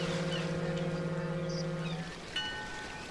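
A ship's engine in the game Tiny Sailors World drones as a low steady hum with tonal overtones, then cuts off about two seconds in, leaving faint ambient wash and a brief clunk.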